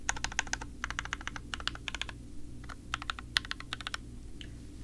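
Rapid bursts of typing on a Polygon 65% mechanical keyboard fitted with a dust mat, clacky keystrokes in quick clusters separated by short pauses, close and alone over a low steady background hum.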